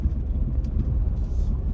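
A van travels along a road, producing a low, steady engine rumble and road drone from inside the cabin that holds at a constant level throughout.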